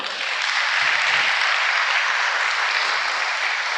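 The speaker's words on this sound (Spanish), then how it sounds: "Si entendió, puede darle un aplauso al Señor." A church congregation claps together in sustained, dense applause, loud and even throughout without pause.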